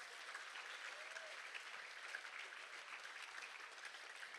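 Steady applause from a stage audience at a language pledge ceremony, a dense wash of clapping with no pauses, heard alone at moderate distance.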